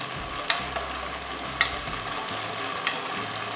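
Tomatoes sizzling in a pan while being stirred for a potato and taro curry, a steady soft frying hiss broken by a few faint scraping clicks of the spoon, with no talking.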